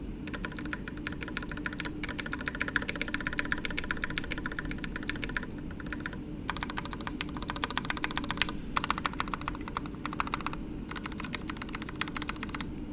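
Continuous fast typing on a TGR Alice mechanical keyboard placed close to the microphone, steady clacking keystrokes with a few brief pauses, no talking.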